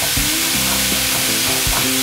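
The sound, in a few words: cauliflower rice being stirred in a pan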